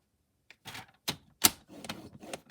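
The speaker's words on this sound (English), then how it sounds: "So I'm going to get on my trimmer. You want to score on the 11-inch side at the top" A paper trimmer scores cardstock for a card base in a run of close, dry scraping strokes and clicks, with brief pauses between them and no voices.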